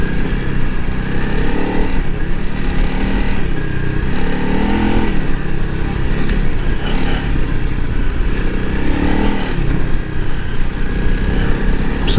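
A 2021 Honda CRF300L Rally motorcycle rides through sand by the Pacific Ocean, its engine droning loud and continuous with constant wind buffeting throughout.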